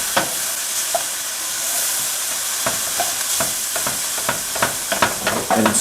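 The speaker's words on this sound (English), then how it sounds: "Just saute it for a bit. I want the garlic to burn" Garlic sautéing in a pan for a Basque pipérade gives a steady sizzle and frying hiss, with scattered soft stirring scrapes and taps, close and alone.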